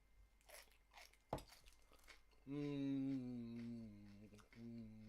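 Someone bites into raw celery dipped in hummus with one crisp crunch, and soft chewing follows close to the mic. After that a voice hums or speaks with a sustained tone.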